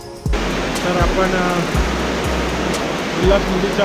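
The full Ulhas river near Badlapur rushes down a slope in a loud, steady roar of water, broken by a few dull low thumps close to the microphone.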